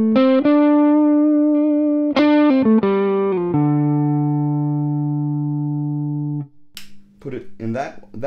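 A Vox Humana CarbonTech custom Telecaster Thinline with a Seymour Duncan P-Rails humbucker in the center position rings out in a few strummed chords, the last one sustaining and fading before brief talk follows.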